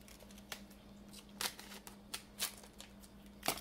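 Quiet snipping and crinkling of scissors cutting through a plastic snack wrapper, several short crisp bursts at uneven intervals over a faint hum.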